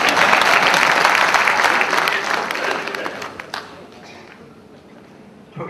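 An audience at a state-level workshop gives dense, loud applause that holds steady for a few seconds and then fades to a low murmur.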